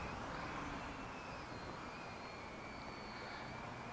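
A HobbyKing Quanum Chaotic 3D quadcopter flies with a steady, continuous whine of its motors and propellers, holding a sustained high tone throughout with no talk.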